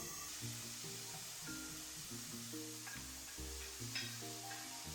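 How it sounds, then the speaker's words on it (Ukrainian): A soft, steady sizzle of chicken fillet and carrots stewing in a pan, with a few faint clinks and musical tones in the background. "І продовжую тушкувати."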